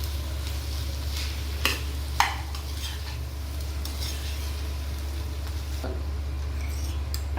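A spoon stirs Schezwan rice with Schezwan chutney in a pan, giving soft scraping and a few sharp clinks against the metal over a steady low hum, with no voices.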